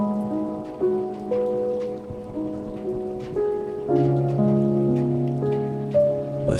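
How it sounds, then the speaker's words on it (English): Steady rainfall patters on a surface beneath soft sustained musical tones. The rain forms a faint, even background under the melody, with no voices. "Listen to the rhythm of the raindrops. It is steady."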